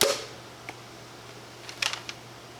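A TalonAxe Armory toy blaster loaded with a Mega XL howitzer shell gives a sharp snap at the start, followed by a few faint clicks and rattles of handling, quiet and close.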